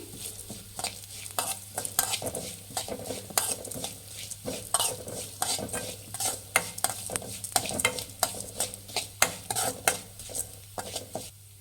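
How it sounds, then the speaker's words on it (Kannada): Sambar powder spices are fried on a low flame and stirred constantly, producing a soft sizzle under rapid, rhythmic scraping of a metal spoon against the pan, close and steady with no talk. "ಇದು ಲೋ ಫ್ಲೇಮಲ್ಲಿ ಇಟ್ಟು ಫ್ರೈ ಮಾಡಬೇಕು."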